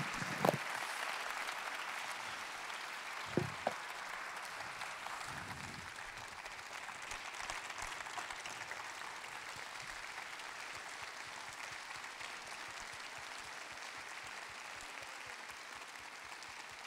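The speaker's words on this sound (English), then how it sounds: "Another round of applause, please" Steady, sustained audience applause fills a large hall after an inspirational talk by a Nazi concentration camp survivor, even and unbroken throughout, heard from a distance with a couple of sharp claps standing out near the start.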